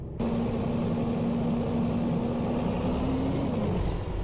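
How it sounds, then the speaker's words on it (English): A heavy truck engine in the video game American Truck Simulator drones steadily at close range, its pitch holding level before dropping slightly near the end, with no talking. "Oh, that truck sounds good too."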